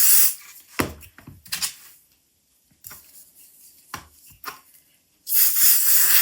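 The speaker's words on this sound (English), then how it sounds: "this is very light spray, just to keep it in place a little bit" Short hissing bursts of light fabric adhesive spray applied inside a small tray for sewing, several separate puffs close by with quiet pauses between, ending in a longer spray.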